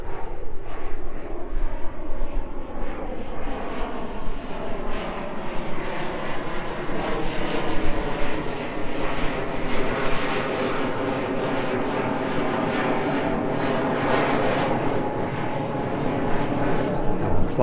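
An Embraer jet takes off at East Midlands Airport and climbs away in the evening, a loud broad engine roar with a high whine, holding steady and then slowly shifting as it recedes, no talk.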